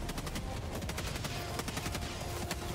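Rapid bursts of automatic gunfire from a Pelican dropship hovering over an enemy base in Helldivers 2, dense overlapping shots continuing steadily throughout at a loud, constant level.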